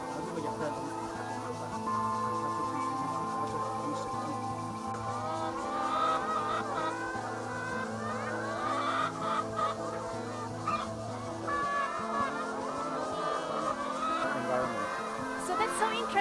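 Chickens clucking and squawking on a Taiwanese farm, several birds calling in overlapping bursts at moderate distance, with voices talking over them.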